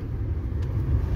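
A Tata Nexon pulls away as the clutch is released, giving a low, steady engine rumble close by with no talk over it.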